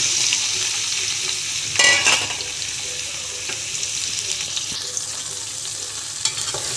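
Chopped ivy gourd pieces fry in hot oil, a loud even sizzle close to the pan with occasional stirring scrapes and one brief louder rustle early on, no speech over it.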